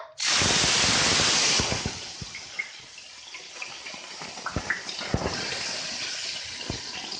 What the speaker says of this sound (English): we'll be adding the mustard seeds and close the lid as it might just splutter